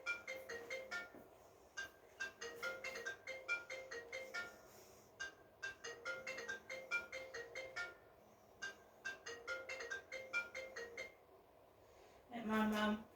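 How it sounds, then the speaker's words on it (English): Telephone ringing indoors in a repeating pattern of rapid electronic trill bursts separated by short pauses, fairly quiet and close, ending with a brief louder burst of another sound. "my mother's just ringing the phone."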